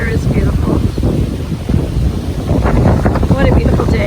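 Strong wind in Santa Barbara buffets the microphone in a low, rumbling roar throughout, with faint voices mixed underneath.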